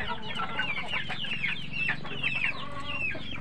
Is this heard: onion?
no